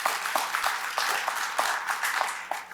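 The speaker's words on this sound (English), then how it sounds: "Yes, you can clap for that." Applause from a commencement ceremony audience at Generations College, a continuous spread of clapping from many hands, moderately loud with a roomy, echoing feel.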